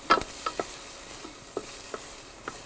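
A spoon stirs chopped onion sizzling in olive oil in a pot, with a soft steady frying hiss and several light scraping strokes at an uneven pace, close and fairly quiet, no talking.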